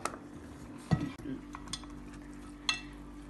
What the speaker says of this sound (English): We're going to mix it up, give it a good old mix.